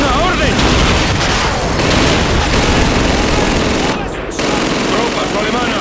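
Sustained machine gun fire from a World War II battle in Call of Duty 2, loud, dense and continuous bursts with explosions mixed in and a brief dip near the end, with voices shouting over the gunfire.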